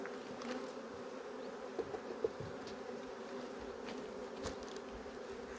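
Honey bees buzz continuously around an open beehive, a faint steady drone with occasional louder passes as individual bees fly close.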